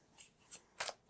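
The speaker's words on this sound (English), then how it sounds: "I'm going to pull a few more cards to go with that" Tarot cards being pulled from a deck, a few faint soft swishes and slides followed by a sharper card snap at the end.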